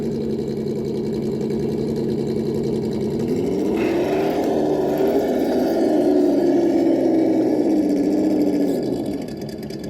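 A Traxxas TRX4 RC truck's electric motor runs in second gear, making a loud, steady close whine that rises in pitch around the middle, holds there, then drops and fades slightly at the end.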